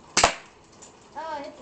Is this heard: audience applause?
no